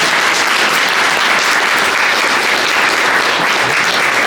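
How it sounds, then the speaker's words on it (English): An audience claps for a panel at a business winter-preparedness event, producing a loud, even wash of applause that holds steady from start to finish without speech. "let's give the panel a round of applause"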